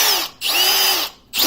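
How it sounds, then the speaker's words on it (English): A Milwaukee M18 2902 hammer drill runs loud and close in short bursts, high whining spins broken by two quick stops and restarts. "that's the hammer drill, and that's for drilling concrete"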